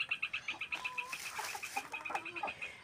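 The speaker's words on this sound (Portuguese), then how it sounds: "Mostrando as galinhas e a produção de ovos." Farmyard chickens cluck in quick, repeated bursts, several birds close by with a short higher call mixed in, fairly quiet and with no talk.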